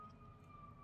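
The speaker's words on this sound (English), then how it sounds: "Pardon the siren. We are in the Bronx," Emergency vehicle siren outside in the Bronx, a steady high tone held throughout, faint and distant against low rumbling background noise.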